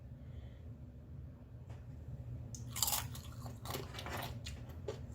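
Biting into a crunchy homemade tortilla chip with chunky fresh tomato salsa, followed by a few close, crisp crunches as it is chewed against a low background rumble.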